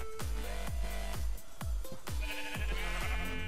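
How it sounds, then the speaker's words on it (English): Minecraft sheep bleat repeatedly in quick succession, loud and close, with a busy game soundscape underneath. "quickly kill the sheep"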